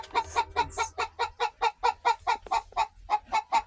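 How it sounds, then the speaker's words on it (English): Backyard chickens cluck in a fast, steady series of about fifteen rhythmic, close calls with no talking. "there's the chickies"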